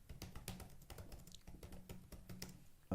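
Soft, steady typing on a computer keyboard while HTML code is written, a continuous run of light key taps, quiet and close with no voices.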